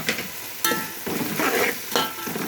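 Vegetable pieces with coriander and mint sizzling and frying in a pan, with several bursts of stirring scrapes over a steady crackle.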